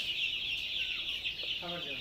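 Several hens cluck softly in a poultry shed over a steady high-pitched background drone, ending with a short run of louder clucks.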